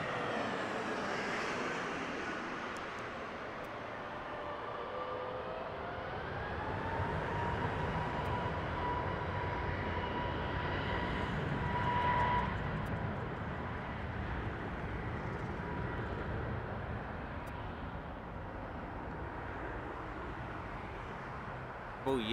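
A Delta airliner arrives at Harry Reid International Airport in Las Vegas, a steady distant engine roar with a slowly shifting whine that holds for over twenty seconds, faint beneath the surroundings.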